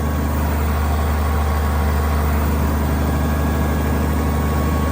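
A tractor engine, one of an IH 1206, Case 1370 or Oliver 770, runs steadily under load on a small dyno with a loud, continuous low drone and no voices.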